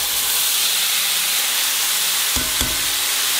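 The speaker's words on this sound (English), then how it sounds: "I'm gonna cook the rice up in the same skillet that I used for the steak earlier today" Miracle Rice frying in a skillet that was earlier used to cook steak, giving a steady loud hiss and sizzle throughout, with a couple of brief clatters near the end.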